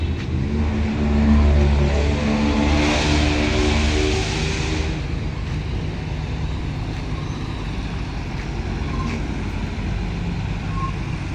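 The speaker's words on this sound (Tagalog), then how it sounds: "Ayan mga kabady, lumabas na mixer." A cement mixer truck's engine revs at a stock yard, a heavy diesel rumble that rises in the first few seconds and then settles into a steady drone amid broadband yard noise.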